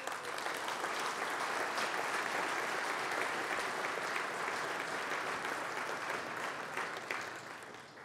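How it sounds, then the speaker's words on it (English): Steady audience applause at a freight forwarding awards ceremony honouring apprentices, a sustained wash of many hands clapping that holds evenly for several seconds and tapers off near the end. "I'd like you to give them a round of applause"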